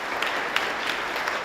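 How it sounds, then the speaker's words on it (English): Applause from members on both sides of the aisle fills a state legislature chamber at session opening, a brief, even wash of many hands clapping at mid distance. "The legislature always starts on a ceremonious and positive note, with applause from both sides of the aisle for returning and new members"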